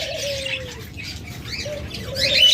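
Caged Japanese pet birds chirp and flap their wings close by, with short tweets, soft cooing and bursts of fluttering over a faint background murmur, no talking.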